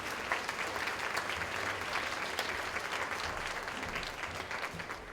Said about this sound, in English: if you'll give a round of applause for all of our models